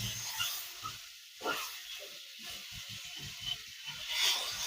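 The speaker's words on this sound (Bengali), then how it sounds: "ডিমটা ভাজা হয়ে গেছে," Egg frying in hot oil, a hissing sizzle with small popping crackles, moderately quiet and close, no speech.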